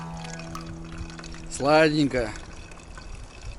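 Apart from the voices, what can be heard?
drink pouring and gurgling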